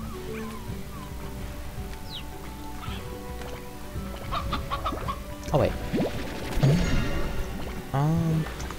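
Briar hens in Slime Rancher cluck and squawk in scattered bursts over a low game background, louder toward the end, while a person briefly talks.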